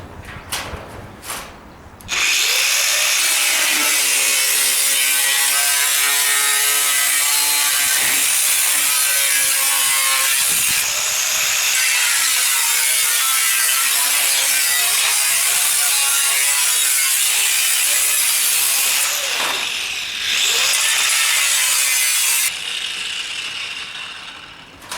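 A power cutting tool slices along the seams of a stainless washing machine drum, a loud continuous grinding whine that holds for roughly twenty seconds, with short starts and stops at the beginning and the end.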